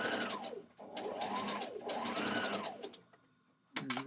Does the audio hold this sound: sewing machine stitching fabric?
yes